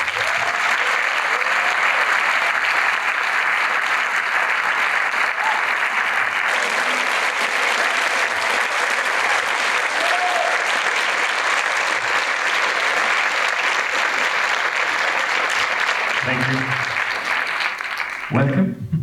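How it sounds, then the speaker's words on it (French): A film-event audience greets Swedish director Ruben Östlund with sustained applause, a dense, steady clatter of many hands lasting well over fifteen seconds before tapering off, with a few voices surfacing near the end. "vous allez lui faire un grand applaudissement"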